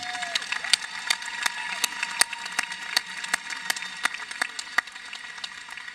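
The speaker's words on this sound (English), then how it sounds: "Please join me in a round of applause for Miss Embry" Sparse, scattered clapping from a high school graduation audience, individual sharp claps standing out with gaps between them, a brief tone early on, fairly faint and distant.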